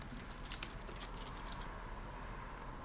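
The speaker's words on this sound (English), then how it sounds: "And then I could come down here and type my name." Soft, irregular key clicks from typing on a computer keyboard while entering text into a letter, quiet and close over a steady low hum, with no voices.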